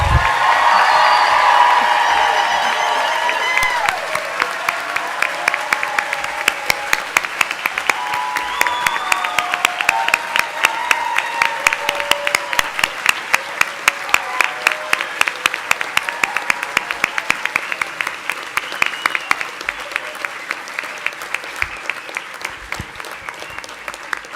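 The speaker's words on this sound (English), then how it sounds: "join me in a round of applause and hoop and holler if you want to for one more time for tonight's ceremony" Graduation hooding ceremony for veterinary medicine at Colorado State University, with a large audience breaking into sustained applause and scattered cheers. It starts dense and loud, then thins into distinct claps that gradually fade.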